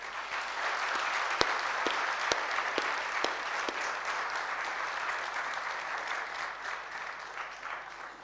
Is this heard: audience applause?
yes